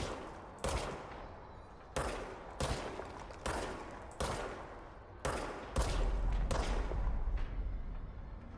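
A magic gun fires in the video game Control, giving about eight evenly spaced, sharp shots, each with a decaying tail, ending in a longer rumbling burst with no talking.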